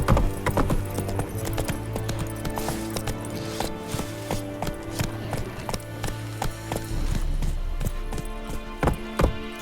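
In The Witcher 3 video game, a horse gallops with rapid, rhythmic hoofbeats, steady and close, over a low rumbling game soundtrack.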